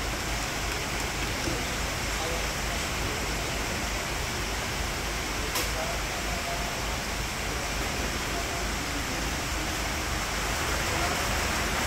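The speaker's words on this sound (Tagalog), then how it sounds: "Biglang bumuhos yung malakas na ulan." Heavy rain pours in a dense, unbroken hiss, with a brief sharp tap partway through.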